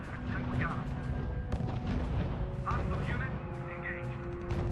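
Bombing in the World War II strategy video game R.U.S.E., Battle of Monte Cassino in Italy. Faint, dull booms and rumbling blasts come and go under radio-style voices talking.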